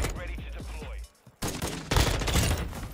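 Gunshots in Modern Warfare 2 multiplayer, a fast run of close, punchy shots followed by a short gap, then more dense firing and battle noise.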